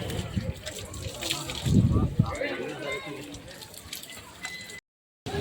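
Water splashes and trickles as feet and hands are washed outside Kollur Mookambika temple, a moderately close, uneven gushing with a few louder splashes, ending in a brief silent gap.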